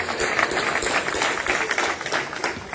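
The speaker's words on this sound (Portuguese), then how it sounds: "Uma grande salva de palmas para todos os presidentes da Junta" Applause at a Socialist Party Three Kings dinner in Vizela, a roomful of diners clapping steadily and fairly loud, with a few voices mixed in.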